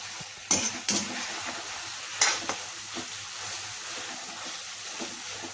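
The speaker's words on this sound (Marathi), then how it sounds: "आता हे आपण 2 मिनिटं थोडेसे फ्राय केल्यानंतर काढून घेणार आहोत." Cabbage manchurian balls fry in thick gravy with a soft continuous sizzle, broken by a few sharp metallic clinks of a utensil against the pan.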